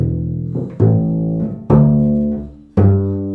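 Bass guitar notes played one after another, each sustained and fading before a short choppy gap until the next note is plucked; three clear, close, fairly loud attacks with no talking.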